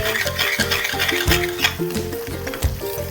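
Red chickpea curry stir-fried in oil in a pan, the spoon scraping and knocking repeatedly in quick strokes over a light sizzle, close up, with a steady tonal hum running underneath and no speech.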